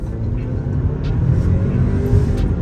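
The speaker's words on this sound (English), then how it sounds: "we can punch it and see how this car feels, you know, highway speeds" A 2023 Audi A4 four-cylinder in dynamic mode accelerates hard from about 20 mph toward highway speed, a steady low engine rumble and road drone heard from inside the cabin.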